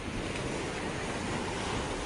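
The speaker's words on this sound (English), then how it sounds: "the sky suddenly turns black and the wind picks up with a wild storm battering the ship" Stormy sea with crashing waves and strong wind battering a ship, a dense continuous roar that stays loud and unbroken throughout, no voices.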